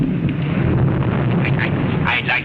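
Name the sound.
thunder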